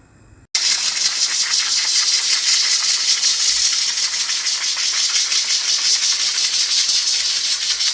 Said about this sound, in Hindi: अब सीटी उतार दी है, गैस निकल जाए सारी